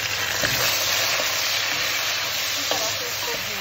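Green chillies and tomatoes frying in oil with browned onions: a steady close sizzle and hiss, with a few soft stirring clinks.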